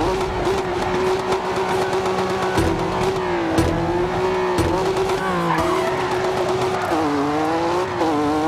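A race car in the Dirt 2 video game roars continuously with a loud, sustained engine note that rises and falls through gear changes, mixed with tire squeal and skidding, with no talk.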